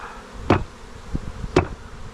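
Buzzing of honey bees close by, a steady drone punctuated by two sharp knocks against a wooden hive box.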